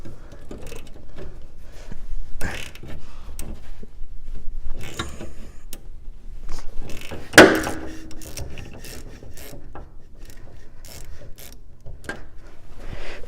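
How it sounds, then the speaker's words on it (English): A hand ratchet clicks as it loosens an undercoated sway bar bolt on a 1982–92 third-generation Camaro, short bursts of ratcheting close by between quieter gaps with a sharp metallic knock midway, no talking. "So I'm just going to use a normal ratchet"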